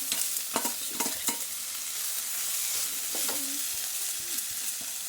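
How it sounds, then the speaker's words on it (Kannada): Onions frying in a pan until golden for a rustic village-style snake gourd and horse gram stir-fry, with steady sizzling and a few sharp scraping stirs of a spoon near the start and again toward the end, no talk. "ಗೋಲ್ಡನ್ ಕಲರ್ ಬರೋ ಗಂಟೆ ಚೆನ್ನಾಗಿ ಈರುಳ್ಳಿ ಫ್ರೈ ಮಾಡಿ ಚೆನ್ನಾಗಿರುತ್ತೆ"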